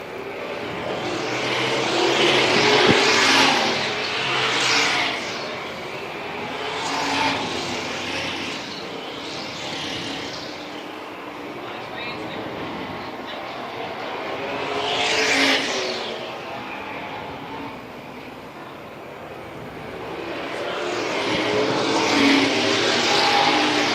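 Vintage race cars lap Dillon Motor Speedway during a 30-lap Southern Vintage Race Car Nationals All-Star event, engines roaring past in repeated swells that rise and fade as cars pass, with a constant background rumble and no voices.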